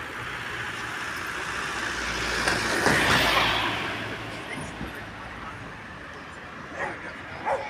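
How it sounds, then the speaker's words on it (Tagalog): Dogs yip and bark amid a loud rushing wind or vehicle noise, with a voice speaking briefly over the commotion. "Yan mga aso."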